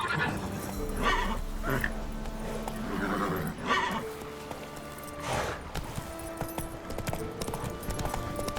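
In The Witcher 3, the horse Roach whinnies and clip-clops along under game ambience and scattered background voices, with several short, bright bursts of neighing and hooves spread across the scene.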